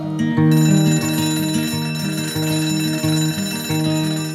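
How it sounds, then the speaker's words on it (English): A continuous bright metallic bell rings rapidly and loudly for several seconds, its tone pulsing in short repeated bursts. "coming awake to an alarm bell with a sudden start"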